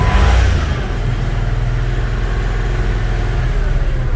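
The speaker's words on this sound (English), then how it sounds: "I'll usually snap the throttle rather than pedal it." A 1996 Jeep Grand Cherokee engine runs at a steady, loud, high-rev drone around 2,500 RPM after a quick throttle snap at the start, with no voices over it.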